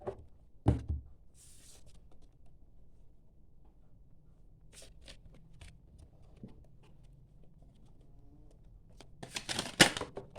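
Tarot cards are shuffled and dealt one at a time, with a few soft card slaps and riffles spaced across a mostly quiet stretch and a busier burst of handling at the end.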